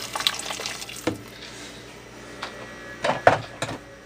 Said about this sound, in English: Putting some boiling water in here.